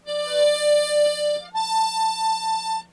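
Held notes come from a tremolo harmonica, a wavering tone that steps up to a second, higher sustained note, each with a steady beating shimmer, close and unaccompanied.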